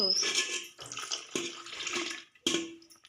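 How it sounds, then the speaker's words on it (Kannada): Water is poured into thick creamy curd while butter is being churned from it, making close splashing and gurgling pours in a few separate bursts with short pauses between them. "ಸ್ವಲ್ಪ ನೀರು ಹಾಕೋಬೇಕು"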